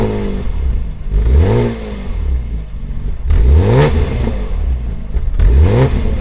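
A BMW Z4 M Roadster's 340-horsepower 3.2-litre engine, shared with the E46 M3, revs in three rising bursts, each climbing and dropping back over a steady idle rumble.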